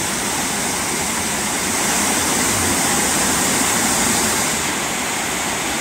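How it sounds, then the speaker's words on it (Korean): Turtle Falls, the tenth of the twelve waterfalls on Seongchisan in Geumsan, South Chungcheong, a steady, loud broadband roar of falling water that stays unbroken throughout with no voices. "여기는 충남 금산에 있는 12폭포 중에 제10폭포 거북폭포입니다"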